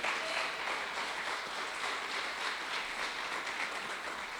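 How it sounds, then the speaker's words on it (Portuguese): A church congregation claps together during a worship service, a dense, steady wash of applause that fills the room without a break. "Dá um aplauso ao Senhor aí."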